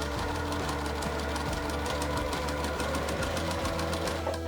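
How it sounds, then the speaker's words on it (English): A sewing machine stitches quilt block pieces together, its rapid, even mechanical chatter running continuously and close up with no voices. "I'm gonna sew these together."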